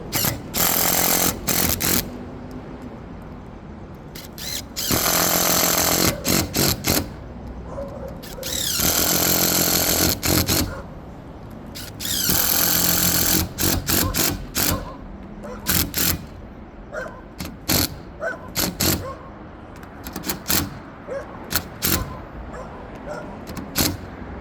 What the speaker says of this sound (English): Tightening screw by screw because the bracket gets tighter and tighter.